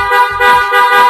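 A loud, buzzy big-bike motorcycle horn honks three times in quick succession, close and alone.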